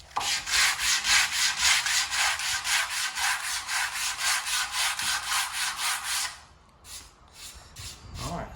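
Rhythmic hand sanding on a new wooden window sash, fast back-and-forth strokes loud and close for about six seconds, then a few slower, lighter passes.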